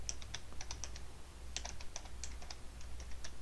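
Fingers tap on a computer keyboard in a quick, uneven burst of light clicks, close and clear over a steady low hum, with a brief pause midway.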